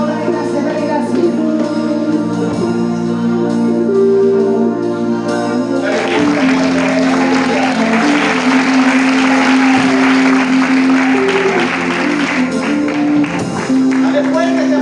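A church congregation claps for the Lord at a united Pentecostal vigil, with steady loud applause rising after a few seconds over sustained music and a voice speaking throughout.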